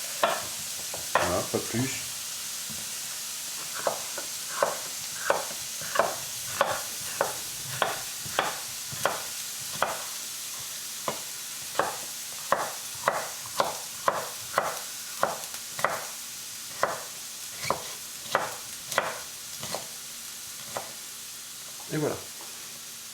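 Vegetables with red bell pepper sautéing in a pan for a vegetarian burger, a steady sizzle broken by regular scraping stirs, close and fairly quiet, with a few brief spoken words.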